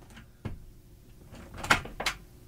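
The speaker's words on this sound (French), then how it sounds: "J'ouvre la porte." A door being opened indoors, heard as a few soft knocks and clacks of the handle and latch, followed by a brief creak and scrape, close by and quiet with no talking.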